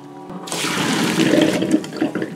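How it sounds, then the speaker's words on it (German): Cold tap water gushes over freshly boiled potatoes in a kitchen sink, a sudden splashing rush that starts abruptly and keeps running steadily, close and fairly loud. "So, kaltes Wasser ein bisschen drüber."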